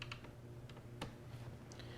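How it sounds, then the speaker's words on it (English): Clips on a plastic laptop case snap loose in a few faint, sharp clicks spread over two seconds against a low steady hum. "that's the sound of the clips unsnapping"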